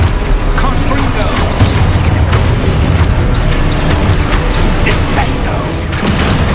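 Spells burst and explode in a Hogwarts Legacy battle, with dense crashing booms and clatter layered over a constant rumbling game soundtrack while a voice shouts spell names.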